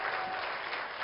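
An award-ceremony audience breaks into dense, sustained applause with some crowd noise, a steady roar of many clapping hands heard alone for about a second.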